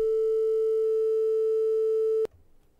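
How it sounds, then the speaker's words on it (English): A pure synthesizer sine wave oscillator tone holds steady at one pitch for about two seconds, then cuts off abruptly into near silence. "Sine wave."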